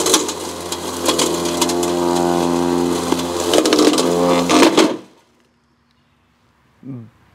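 A heavy-duty robot mower cutting tall grass on a steep hill gives a steady, droning motor hum for about five seconds, then stops abruptly into near silence, followed by a brief chirp.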